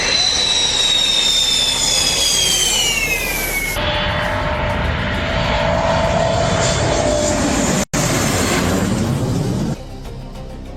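Indian Air Force fighter jets roar loud and close over a national highway in Assam, a descending engine whine sweeping past, then a sustained rumbling jet roar that fades at the end.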